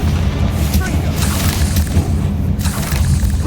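Confringo, an explosive fire spell in the video game Hogwarts Legacy, booms in a dense, continuous roar of blasts and rumble, loud and close with no clear gaps.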